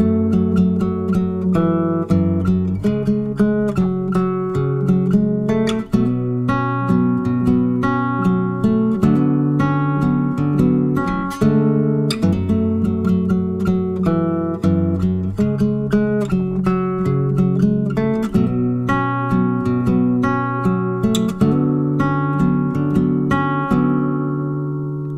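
Fingerstyle acoustic guitar plays a song verse as a beginner arrangement, with steady, evenly plucked notes and open-string bass ringing together in a clear, unhurried rhythm throughout, with no voice.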